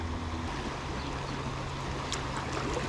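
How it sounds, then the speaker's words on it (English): A small spring creek flows steadily nearby, giving a continuous close trickling wash with no talking over it. "Since we're on this spring creek,"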